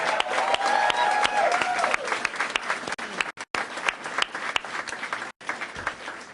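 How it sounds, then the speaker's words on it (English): A crowd applauds with dense, steady clapping that carries on for several seconds, with a few voices mixed in. "So let's applaud the team."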